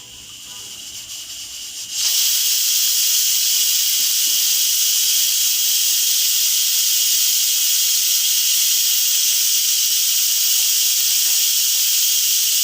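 Pressure cooker on a stove cooking tomato dal bursts into a loud, sustained steam whistle after a quieter lead-in, hissing intensely and steadily close by.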